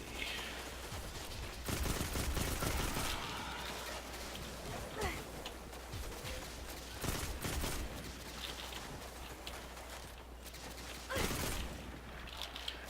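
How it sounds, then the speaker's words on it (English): Rapid gunfire rings out in the Destiny 2 video game as enemies are shot, with bursts of clattering shots and louder volleys coming in waves over a constant background of game noise. "I'm shooting the black shadowy guys because they're not Vex."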